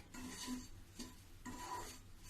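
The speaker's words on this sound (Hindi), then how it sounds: "ये नारियल का बुरादा मैं ज्यादा नहीं भूनूंगी, थोड़ी सा भूनूंगी।" Desiccated coconut being stirred as it dry-roasts in a pan: three dry, raspy scraping strokes in a steady rhythm, close and moderately quiet, with no voices.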